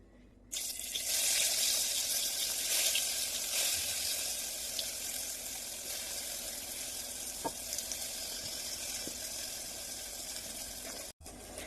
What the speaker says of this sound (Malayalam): ചൂടായ ചട്ടിയിലേക്ക് നമ്മുടെ വഴുതനങ്ങ